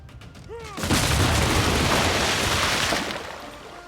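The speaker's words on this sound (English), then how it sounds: "But I can at least repay the favor by returning fire." Naval gunfire in the Civilization 6 strategy video game: a short whistle followed by a sustained booming barrage of cannon fire that rumbles loudly for about two seconds before fading.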